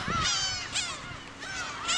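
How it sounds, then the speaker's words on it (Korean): Black-tailed gulls calling on Dokdo island at their cliffside breeding colony: a series of loud, harsh, nasal mewing cries, several overlapping calls in quick succession, close and clear with no talking. "괭이갈매기다."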